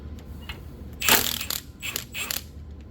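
A ratchet loosens the top caliper bolt during a dual-piston brake swap on a G-body Blazer, giving a few short clicking and grinding bursts close to the microphone.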